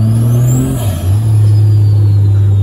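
A 5.9 Cummins diesel engine runs loud and close with a strong steady drone, its pitch dipping briefly then rising again as the turbo spools, with a faint high whistle above.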